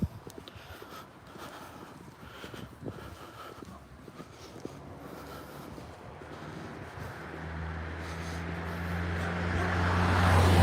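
A Lada on a road in Russia makes traffic noise that swells as the car nears, with engine hum and wind rising loudly toward the end and no voices.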